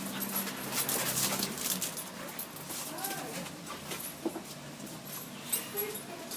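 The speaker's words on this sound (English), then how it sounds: "Oh, I'm just playing with the dogs." Dogs playing indoors, with soft whimpers, panting and scuffling paws across several seconds, fairly close, while a person talks intermittently in the background.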